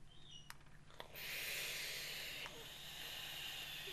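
Vape coil sizzling as it fires with fresh cotton, a steady close hiss that starts after a couple of faint clicks and holds for several seconds, with light breathy noise around it.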